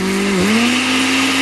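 A blender motor whirs loudly and steadily, its pitch dipping briefly then settling into a constant high drone, with no talk over it.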